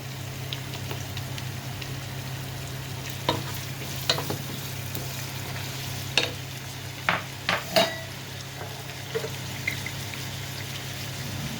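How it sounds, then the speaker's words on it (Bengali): Chopped potatoes frying with ginger and garlic in a pan, a steady low sizzle running throughout with scattered clinks and scrapes of a utensil stirring against the pan. "দিয়ে দিচ্ছি একটু আমি আলু কুচানোটা, একটু আলুটাকে ভেজে নিব।"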